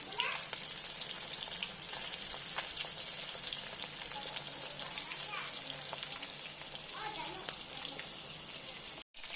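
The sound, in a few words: fish frying in a pan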